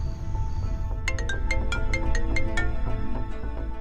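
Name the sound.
phone ringing during a call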